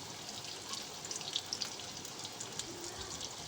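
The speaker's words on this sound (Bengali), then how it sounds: "আলুটাকে প্রথমে আমি ভেজে নেব।" Chopped boiled potatoes frying in a pan with a little oil, a faint continuous hiss and crackle with light spattering pops.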